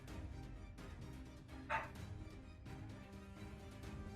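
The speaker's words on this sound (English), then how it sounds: "No, dog, you're not kindling. Okay, I don't know if you can hear it him barking because he wants his food" A single short dog bark rings out briefly amid ongoing background music, fairly faint and not far away.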